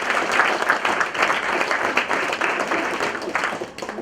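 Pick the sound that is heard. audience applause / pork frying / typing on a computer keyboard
audience applause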